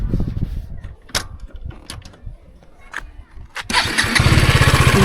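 A KTM Duke 250 Gen 3 motorcycle with about 11,000 km on it is cranked and fires up, a run of starter clicks and bursts building into a loud, steady close-up engine roar at the end.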